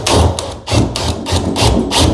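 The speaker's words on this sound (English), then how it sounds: "I'm gonna go ahead and use my 3/8 socket and adapter combo with my drill" A cordless drill with a 3/8 socket and adapter turning a cable stud during an EXACT-SLIDE extended-shaft motor replacement, loud close rhythmic thumping bursts about four times in two seconds.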